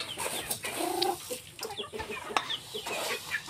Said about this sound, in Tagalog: dito naman si Joey ngayon sa ating manok. At ayan, binibigyan niya ng pagkain.